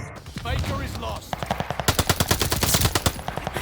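MP40 submachine gun in a video game fires a rapid burst of about a dozen loud, evenly spaced shots, preceded by a brief stretch of talk and game sounds.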